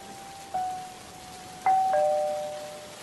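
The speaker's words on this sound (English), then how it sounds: "ring the doorbell." A doorbell rings in a SpongeBob video game, with two clear chimes: a short tone near the start and a longer two-note ding-dong past the midpoint over a soft, hissing rain-like background.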